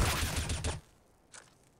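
Gunfire in a competitive shooter match at the 2015 World Championships European qualifier, Portugal vs Latvia, a dense rapid burst of shots lasting under a second, then a single faint shot afterward.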